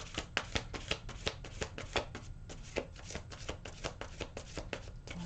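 Angel cards are shuffled by hand in quick, rhythmic riffles, a rapid series of crisp flicks and taps, close but quiet, with no talking.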